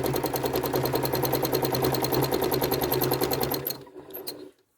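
Sewing machine stitching repeating curves in a quilt, a loud fast steady needle rhythm running continuously up close, then slowing and stopping near the end.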